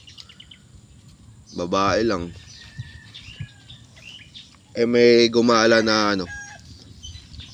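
Backyard chickens cluck and crow loudly in two separate bursts close by, with quiet ambient background between them and a person talking briefly.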